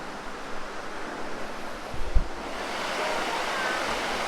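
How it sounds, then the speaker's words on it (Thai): Kinnaree waterfall at Phu Langka in Bueng Kan, Thailand, gives a steady broadband rush of falling water, with a brief low thump partway through. "ตรงนี้ก็เป็นน้ำตกกินเนลี่นะครับ"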